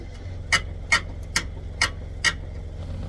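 A car jack being cranked up under a Hyundai Santa Cruz gives five evenly spaced metallic clicks, close and distinct over a low steady background.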